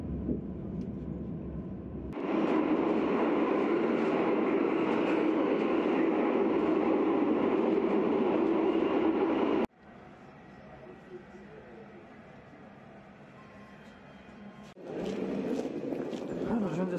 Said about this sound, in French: je viens de descendre du RER